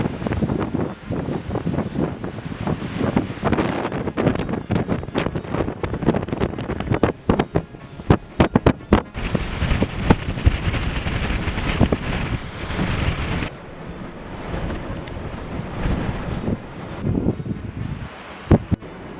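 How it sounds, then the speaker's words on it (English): Fierce North Atlantic wind buffeting the microphone at sea cliffs in the Faroe Islands, a loud, gusty roar with irregular thumping blasts and a rushing, surf-like wash that rises and falls throughout. "Fierce winds over this North Atlantic forced waterfalls in the Faroe Islands to blow upward against the cliffs"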